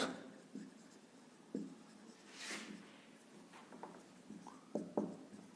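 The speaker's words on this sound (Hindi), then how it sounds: "एक स्टेटमेंट लिख रहा हूं" Marker or chalk scratches and taps across a board as a statement is written, with faint, irregular strokes and small clicks in a quiet room.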